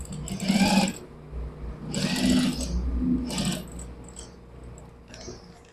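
A sewing machine stitches a pocket onto a shalwar in three loud runs of rapid mechanical whirring, each lasting under a second, separated by short quieter pauses, then a few faint clicks as it slows.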